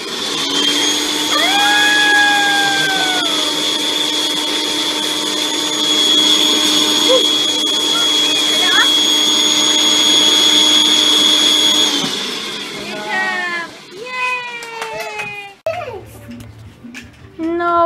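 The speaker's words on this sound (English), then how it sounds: "Turn it on, the vacuum, Bubs." A household vacuum cleaner drones loudly and steadily with a high whine for about twelve seconds, then cuts off, and a voice and other voices follow.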